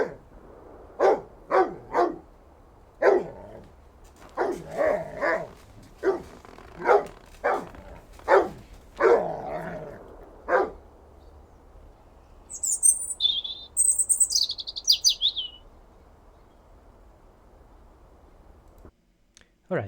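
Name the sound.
dog barking and bird chirping, mono sound objects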